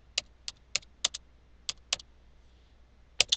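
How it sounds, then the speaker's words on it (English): Keys click on a computer keyboard as information is typed in, a dozen or so crisp, close taps in an uneven rhythm, some in quick pairs, over a faint low hum and no speech. "you simply type in the information"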